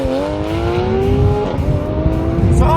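A Porsche 991 GT3 Street Cup drives past close by with a loud, high-revving flat-six engine note that climbs steadily, dips briefly at a shift, then pulls on with road noise underneath.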